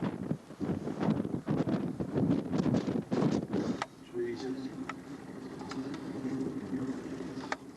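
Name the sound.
wind blowing on the Gunbarrel Highway, Mount Beadell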